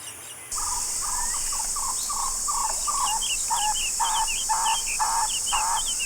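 Birds call in a Cuban dry semi-deciduous forest, with a series of short repeated chirps and whistles ringing out clearly over a steady hiss of insects.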